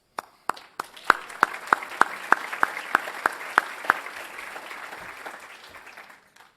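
Applause at a conference opening plenary begins with a few sharp, separate claps that build into a rhythmic, unison beat before loosening into scattered clapping and fading out.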